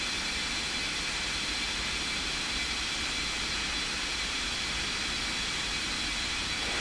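Steady, broadband roar of a Lufthansa Airbus A380's jet engines on the takeoff roll, heard as a continuous wash of noise with no talk at moderate distance.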